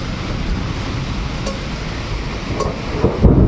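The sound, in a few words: thunder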